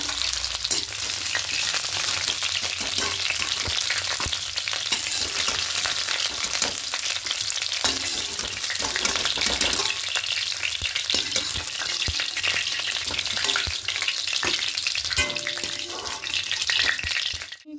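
Cauliflower pieces frying in hot oil, a continuous loud sizzle and crackle that runs unbroken, with occasional clatters of stirring and no speech.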